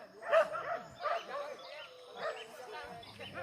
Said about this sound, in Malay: Anjing keluar kan dia keluar.